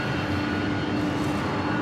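A jet airliner engine roars steadily at New York's JFK airport, a continuous broadband rumble with a faint tonal whine and no talking.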